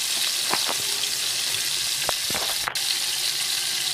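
Breakfast food fries in a pan with a steady, close sizzle throughout, broken by a few soft utensil taps and a brief scrape, with no voices.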